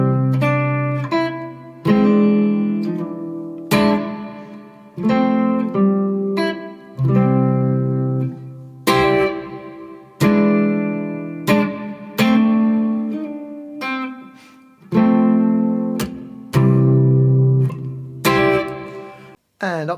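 Guitar slowly playing the intro of a song with hammer-ons, distinct plucked chord phrases separated by brief pauses, close and clear with no voice.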